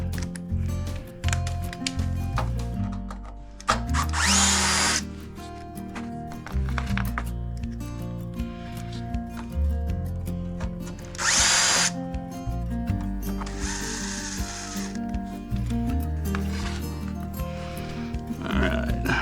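Power drill driving Torx screws on a Dirty Hand Tools 35-ton log splitter, with loud whirring bursts of varying length over steady shop clatter and mechanical noise, close by.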